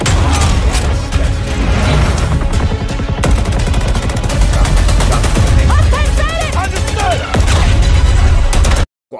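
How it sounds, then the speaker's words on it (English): Shotgun fire in a Battlefield 2042 trailer: loud, dense battle audio with repeated gunshot blasts, rapid automatic fire and mechanical clatter, mixed with music and other effects throughout. "This shotgun, it better not be able to one-tap from that distance right there like that."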